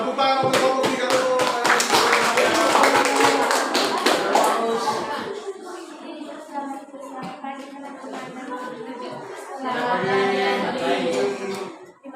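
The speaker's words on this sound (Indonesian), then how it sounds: "Tepuk tangan untuk kelompok 3 dulu." Classroom applause for a student group: several seconds of dense, lively clapping from many hands, which thins out as a student starts speaking.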